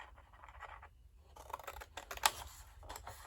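Scissors snip paper for a Father's Day tie box in quiet, close, scattered cuts and scratchy rustles, the snips sharpening and coming faster toward the end.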